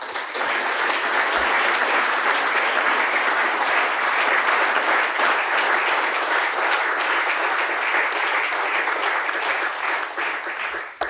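Audience applause at a formal award ceremony in Slovenia's National Council, with a dense, steady roar of many hands clapping that holds loud for about eleven seconds before it cuts off.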